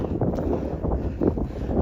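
Wind gusting across a mountain trail during a morning run in Montana, a steady low rumbling buffet against the microphone with surges around the middle and end, alone with no talking.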